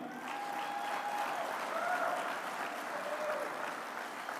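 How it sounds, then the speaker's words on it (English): Sustained audience applause at the Earl Campbell Award event in Tyler, a steady wash of many hands clapping at moderate level throughout, with a faint tonal whine running beneath it. "Another round of applause for Cindy Smoke."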